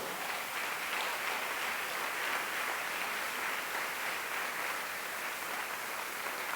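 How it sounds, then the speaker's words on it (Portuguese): A church congregation applauds during a sermon, a dense, even wash of many hands clapping that holds steady from start to finish, heard from a slight distance. "querendo pode aplaudir ao Senhor"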